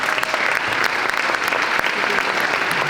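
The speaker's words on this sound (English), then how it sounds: "A huge round of applause to everybody." A comic con audience fills the room with dense, sustained applause, steady clapping for the whole stretch without a break.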